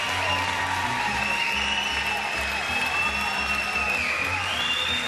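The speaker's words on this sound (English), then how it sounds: "The crowd on their feet." Squash fans at a 2006 US Open semi-final cheer and applaud, a dense sustained roar of clapping and shouting with whoops, loud and continuous throughout.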